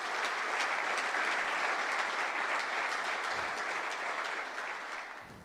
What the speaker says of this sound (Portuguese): Aplauda o Senhor para a glória de Deus.